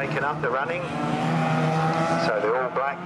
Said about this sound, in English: 849, there it goes, well, sort of navy blue, that leads the way ahead of 63 and 88, and then Joy Roberts follows that